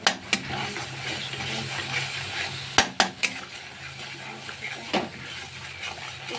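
Vegetables sautéing with salt and turmeric in a pan, a low sizzle punctuated by repeated sharp knocks and scrapes of a utensil on the pan, with a faint voice in the background.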